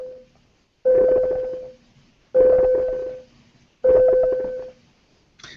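A ringing bell sounds as three separate electronic tonal bursts, each about a second long with short gaps between them, loud and close, with no voices.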